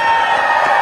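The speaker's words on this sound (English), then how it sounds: "Crowd erupts." At a mayoral swearing-in, a large crowd roars and cheers in one loud, continuous burst.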